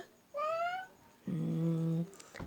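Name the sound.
child imitating goat bleat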